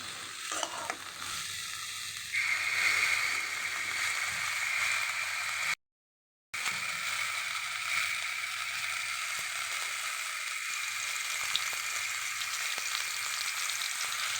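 Bitter gourd cooking in a little oil sizzles and crackles steadily in a pan, with stirring and scraping over the hiss; the sound cuts out briefly partway through and then resumes.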